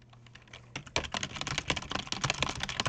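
Rapid computer keyboard typing during an online English typing test, close-up clicking keys in a fast irregular stream that starts softly and grows louder after the first second.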